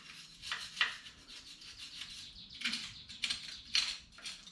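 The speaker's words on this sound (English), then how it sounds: "Makes it easier to scrape." Scraping of softened coating off an early Ford Bronco front body mount, a series of short rasping strokes up close, steady and gritty, with no voices.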